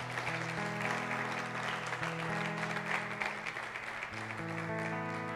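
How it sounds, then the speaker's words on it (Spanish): Applause from a church congregation, steady and dense throughout, with sustained music tones running beneath the clapping. "Dale un aplauso a Jesús."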